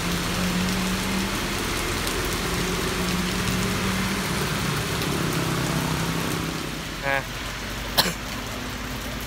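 Heavy storm rain drums constantly on a street in Saigon during Storm No. 9, a thick steady roar with a faint engine hum beneath, a brief throat-clearing sound near the end and a sharp knock just after.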